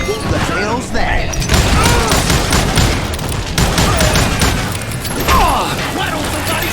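Gunfire in Call of Juarez: Gunslinger at a camp near Parachute, Colorado, with repeated shots cracking in a dense, loud barrage along with clatter and impacts, while a voice talks over it.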